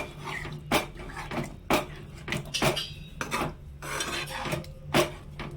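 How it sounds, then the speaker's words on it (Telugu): A spoon stirs tamarind juice into bottle gourd curry in a pot. Close metallic scrapes and clinks against the vessel come in an irregular rhythm, sharp and fairly loud over a low hum, with no voices. "చింతపండు పులుసు పోసుకున్నాక ఒకసారి తిప్పుకొని"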